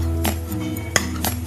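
Utensils clink and scrape against a bowl while mutton is mixed with coriander powder, red chilli powder and garam masala for a marinade, with a few sharp knocks standing out over a steady low hum.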